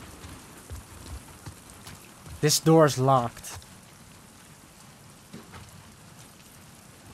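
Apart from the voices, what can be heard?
rain falling in a video game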